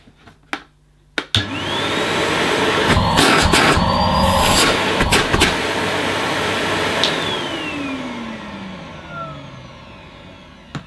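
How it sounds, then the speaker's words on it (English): A Numatic Henry Allergy canister vacuum cleaner switches on with a rising whine after a few clicks, runs steadily and loudly, then spins down. "still a very pleasant sounding vacuum"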